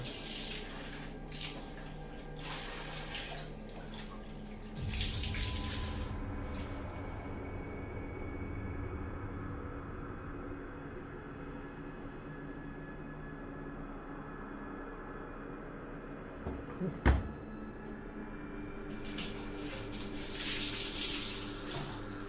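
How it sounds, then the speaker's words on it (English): Water runs and splashes steadily like a tap filling a basin, with a sharp knock partway through and no talking. "like someone splashing water in a bar"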